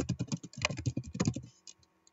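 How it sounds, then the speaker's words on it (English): A burst of quick, close computer keyboard typing as a name is entered, keystrokes clattering in a rapid uneven rhythm for over a second before a few scattered final taps. "type my name and it shows up"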